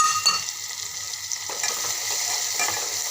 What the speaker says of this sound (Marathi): हे सर्व असं छान मिक्स करून घेते